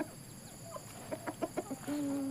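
Ayam gajah chickens, a large breed, cluck on a Malaysian farm: a short run of soft, separate clucks rises and falls, then ends in a longer drawn-out call, all fairly close over quiet background hum.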